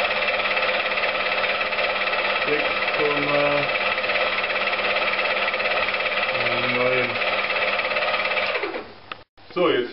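A milling cutter cuts along the edge of a Porsche fuel tank cap, reaching 6.9 mm into the metal, with a loud, steady machine drone throughout that ends in an abrupt cutoff.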